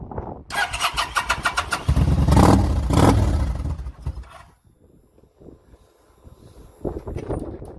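A Kawasaki VN 900 motorcycle in neutral cranks briefly with a whine, then catches and starts with a loud rumbling roar that settles into a lower idle with a few quieter engine sounds afterward; nobody speaks.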